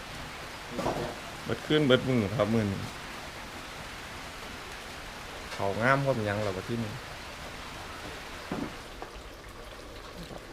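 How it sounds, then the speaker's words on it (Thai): Rain falls steadily outdoors as a soft, constant hiss, while someone talks over it in short bursts. "บรรยากาศฝนตก"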